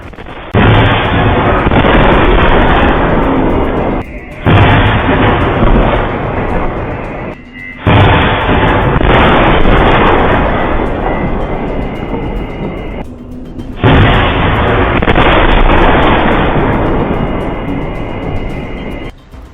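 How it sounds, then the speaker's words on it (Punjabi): A missile strike in a Gurdaspur village sends out huge, sustained roaring blasts, several long booming waves separated by brief gaps, overwhelming and very loud. "ਇਸ ਦੇ ਧਮਾਕੇ ਦੀ ਆਵਾਜ਼ 10 ਕਿਲੋਮੀਟਰ ਤੱਕ"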